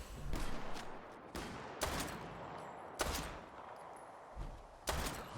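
Gunfire in Fallout 4: a handful of sharp, loud shots spaced unevenly over a few seconds, each a broadband crack with a short decaying tail, no talking.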